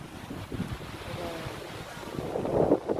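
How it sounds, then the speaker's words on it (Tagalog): Sea waves wash onto the shore at Chalet Kiran, a soft continuous surf mixed with wind buffeting the microphone, swelling slightly toward the end. "Dagat yan po."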